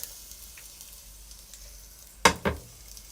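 Teriyaki salmon noodles sizzle in a hot pan, with a steady quiet fry broken by two sharp, louder bursts of sizzling near the end as food is stirred or tossed.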